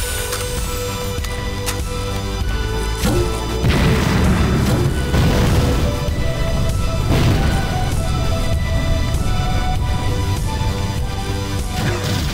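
A rifle grenade explodes in the video game Mace Griffin: Bounty Hunter: a loud boom hits a few seconds in, then gives way to a dense, sustained wash of battle noise and rumble.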